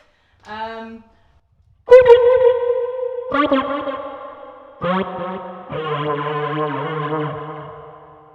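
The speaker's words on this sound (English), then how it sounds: "think that's probably a bit of reverb, a little bit of delay" Buzzy, nasal tones from a Kazoobie Hummbucker electric kazoo with heavy reverb and delay echo trails, several sustained notes separated by short pauses.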